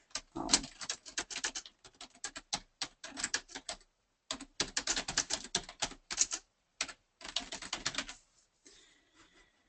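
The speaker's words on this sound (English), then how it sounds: "You simply highlight the text and start typing." Computer keyboard typing, crisp rapid keystrokes in short bursts separated by brief pauses, close and clear with no talking.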